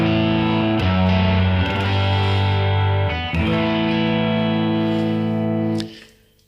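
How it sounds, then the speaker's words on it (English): A steady sustained guitar-like signal with the reverb effect switched on, loud and droning through a couple of brief dips, then fading away into a reverberant tail at the end, with no voices. "which turns the reverb on"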